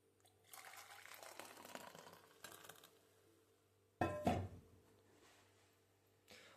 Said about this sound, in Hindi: इस गिलास में ही डाल लूँगा कॉफ़ी को, जिसमें कि ऑलरेडी थी